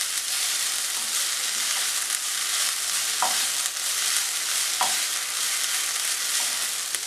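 Cucumber thoran mixed with vinegar in a pan fizzes with a steady, close sizzle throughout, broken by a few light scrapes of a spoon stirring against the pan.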